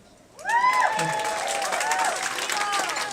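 At a stand-up comedy show an audience breaks into loud cheering and applause after a quiet moment. Whoops and yells ride over the clapping, which stays full and sustained to the end.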